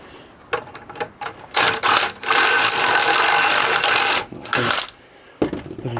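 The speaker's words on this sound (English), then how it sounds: "Put a 10mm drill through there and give it a little bit" A 10mm drill bit boring through a joiner-made casting flask, its motor whining loud and steady for about three seconds amid shorter bursts of drilling, with no talking.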